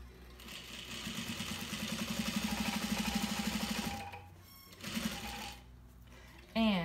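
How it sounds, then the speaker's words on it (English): A sewing machine stitches fabric down along the edge of a zippered pocket in a fast, steady run of needle strokes lasting about four seconds. A shorter burst follows after a pause, and a voice briefly talks near the end. "But as I stitch down, I'm gonna make sure I go over my other stitches"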